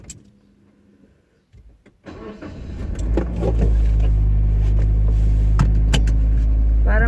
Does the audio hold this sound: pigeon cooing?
no